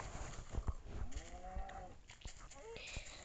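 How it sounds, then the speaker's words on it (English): A cow in a video game gives a few drawn-out moos over background game noise and soft thumps, with a person talking at times. "Stop standing right there, cow."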